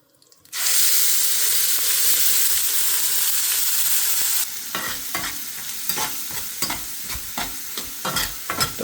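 Cumin and spice masala sizzling loudly in a pan for egg masala, starting as a sudden sustained hiss, then breaking into a steady crackle with repeated scraping stir strokes.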